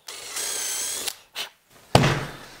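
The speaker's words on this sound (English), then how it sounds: "then drill and screw that one as well" A power drill boring a pilot hole for a traditional casement window fastener, heard as a short whirring burst, a brief second spin, then a sharper knock and a louder whir, close and without speech.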